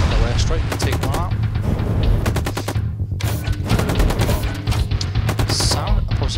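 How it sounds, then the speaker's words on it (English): Airstrike blasts in the zombie defense game Zombie Wars: Invasion, a loud, dense barrage of sharp bursts and rumbling impacts layered over constant gunfire and game music. "we're going to send a little airstrike and take one out"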